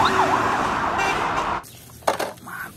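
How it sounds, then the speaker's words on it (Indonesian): A toy police patrol car's siren wails steadily and loudly for about a second and a half, then cuts off, leaving a few brief clicks and handling noises. "Mobil polisi patroli."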